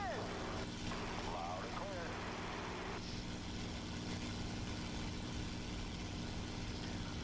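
A P-51 Mustang's piston engine in the War Thunder air simulator drones steadily as the fighter rolls for takeoff. The low, continuous hum stays fairly faint, and a voice talks over the first few seconds.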